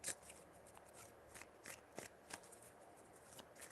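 Tarot cards shuffled by hand, up close and quiet, with a run of soft crisp flicks and slides at uneven intervals and no voices.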